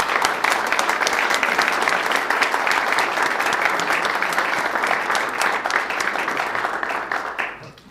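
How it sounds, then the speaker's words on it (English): A church congregation applauds its volunteers in a dense, sustained wave of clapping that holds steady for several seconds before tapering off at the end. "And if I could ask for a round of applause for all these volunteers."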